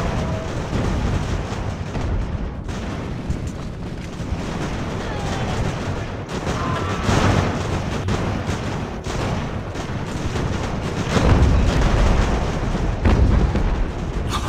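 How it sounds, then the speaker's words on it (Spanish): Heavy cannon fire from sailing warships in a naval battle game set in the Age of Sail, continuous booming volleys layered into a dense roar with someone talking over it. "¡Qué cañonazo mete, tío, este!"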